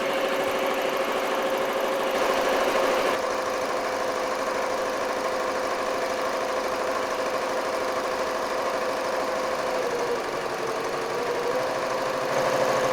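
An embroidery machine stitching out iron-on patches, a steady mechanical hum with a rapid repetitive needle chatter, continuous and fairly loud, with no voices.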